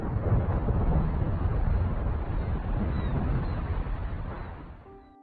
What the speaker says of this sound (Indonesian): efek dari kerusakan ini mulai muncul di bumi, yaitu berupa petir yang terus-menerus menyambar